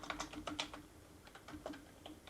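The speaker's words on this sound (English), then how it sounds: "And let's type that in," Quick, light keystrokes on a computer keyboard, an irregular patter of soft clicks, fairly faint and close.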